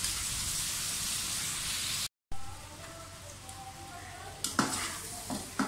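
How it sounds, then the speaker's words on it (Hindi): Garlic and ginger fry in a pan with steady sizzling, broken by a brief silence, then quieter crackling with a few scraping stirs near the end. "लहसुन अदरक को अच्छी तरह से भुनाई कर लें।"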